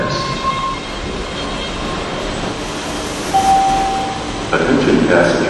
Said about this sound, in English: the next red line train to Ashmont is now arriving